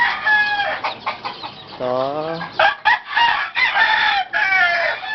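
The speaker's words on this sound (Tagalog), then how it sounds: "ito po yung kulungan ng may napisa na sisiw" Chickens cluck and a rooster crows close by at a coop holding newly hatched chicks, wrapped in sacking with netting across the front; loud, continuous fowl calls, with a brief spoken word.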